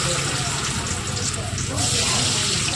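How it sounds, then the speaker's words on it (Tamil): Battered cauliflower pakoda deep-fry in hot oil with a loud, continuous bubbling hiss that fills the whole moment. "அவ்வளோதான், கொஞ்சம் கொஞ்சமாக போட்டு வந்துட்டு ஃப்ரை பண்ணி எடுத்துக்கலாம். நல்லா ஃப்ரை ஆகிட்டுருக்கு."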